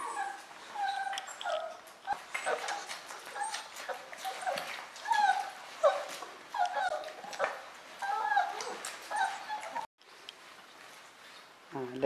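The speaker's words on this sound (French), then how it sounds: "On commence cette journée avec une tétée dans le salon." A litter of one-month-old puppies nursing indoors in a living room, with constant high whimpers, yips and squeaks close by, and a voice talking softly underneath.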